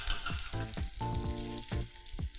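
Salmon fillet sizzles loudly in a hot pan while the pan is shaken, with bursts of frying crackle and scraping slides recurring every half second or so throughout.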